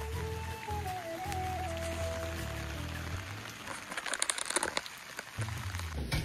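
A hard downpour in foggy hill weather in Almora, Uttarakhand gives a constant rushing hiss, joined near the end by brief close crinkling and crackling bursts.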